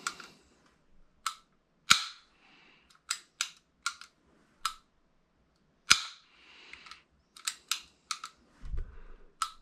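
An airsoft gun gearbox with a custom frame cycles its disconnector in sharp, isolated mechanical clicks and snaps, close and dry, coming singly and in quick pairs with brief silent gaps and a soft thump near the end.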